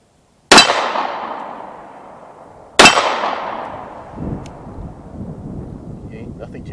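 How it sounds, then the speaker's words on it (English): Two pistol shots in a snap shooting drill each ring a steel target with a sharp crack and a long metallic decay, about two seconds apart, followed by outdoor wind noise and faint movement. "So, practicing for real-world conditions, you could do snap shooting like so."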